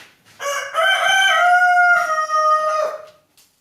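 A rooster crows loud and close, one long drawn-out cock-a-doodle-doo of about three seconds that rises, holds a bright harmonic tone and then tails off, with no talk over it.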